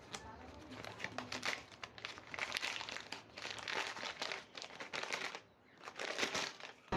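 Plastic packaging torn and peeled off a light blue Kingster hard drive carrying pouch, close crinkling and crackling in irregular bursts with brief pauses.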